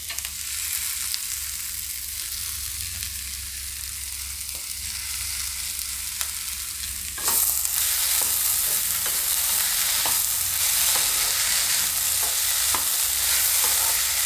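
Potatoes frying in a pan for farali handvo, a close continuous sizzle with stirring scrapes that grows noticeably louder and brighter halfway through.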